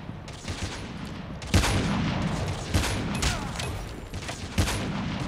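Rapid bursts of gunfire in the mobile shooter Call of Duty Mobile, steady volleys with several louder shot accents, dense and continuous, no talking.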